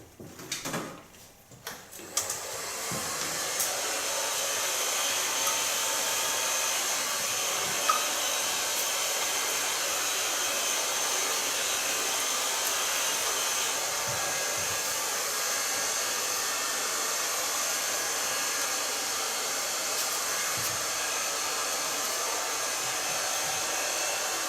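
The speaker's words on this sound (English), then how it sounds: "Now this is just blow drying" Hair dryer blasting steadily while hair is blow-dried with a large brush during a cut and color session, a loud continuous whoosh after a few opening clicks and handling thumps, with no voices over it.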